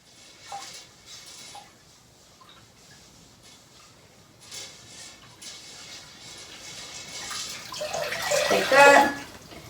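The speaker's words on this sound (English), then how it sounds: "So then you take your rag and you put it back in the mix and you stir it around again." A rag stirred around and wrung out in a bowl of water, soft sloshing that builds into a louder splash and drip near the end, with faint ticking in the background.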